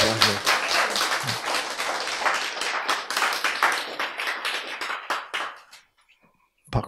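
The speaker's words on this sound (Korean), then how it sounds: "박수!" Lecture audience claps in a lively burst of sharp hand claps that thins out and stops near the end, followed by brief silence and a voice.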